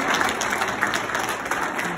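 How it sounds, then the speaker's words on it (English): Sustained audience applause fills a graduation ceremony for an SME development and mentorship programme, a dense, steady wash of many hands clapping at even loudness from start to finish with no voices over it. "please give him another round of applause"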